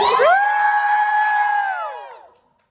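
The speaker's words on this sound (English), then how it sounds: "Hey, you can cheer louder than that." A concert crowd at a pop Q&A in Seattle lets out one loud, sustained cheer with high whoops and screams, holding steady for about two seconds before fading out.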